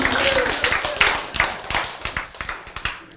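An audience at a lecture claps its hands in a steady, fairly loud rhythm, a run of crisp, evenly spaced claps that continues for about three seconds.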